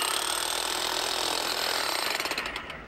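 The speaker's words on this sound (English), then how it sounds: "this thing is the hardest hitting, fastest drilling rotary hammer on the market" A Makita rotary hammer drills with a loud, rapid, continuous hammering rattle that slows into distinct pulses just before stopping.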